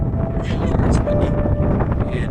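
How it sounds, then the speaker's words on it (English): Gusty wind buffets the microphone with a low, rumbling roar at Great Sand Dunes National Park, Colorado, with faint voices in the background. "It's windy,"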